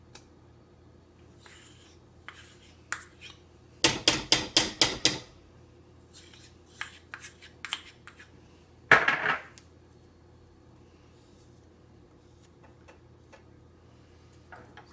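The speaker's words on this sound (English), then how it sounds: "So I mix it in, get the peanut butter melted." Spoon stirring melting peanut butter in a cooking pot, with a burst of rapid scraping clicks, then scattered taps and a second brief clatter, close and otherwise quiet.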